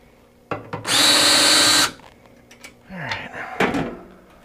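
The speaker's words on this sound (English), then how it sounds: "So I'm going to open this up a little bit and I'll show you where I got this connected. Right, so I'm going to take these panels off." Power tool whirring in a sustained loud burst for about a second while panels are taken off an off-grid solar system enclosure, followed by clunks and handling of the panels nearby.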